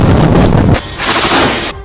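Navy marine commandos fire guns among sea waves, loud, dense close-range bursts in a continuous heavy barrage, cutting out and resuming briefly.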